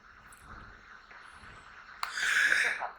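A single sharp sneeze bursts out about two-thirds of the way through a quiet dramatic TV scene, with a hissy, breathy tail that lasts nearly a second over faint background murmur.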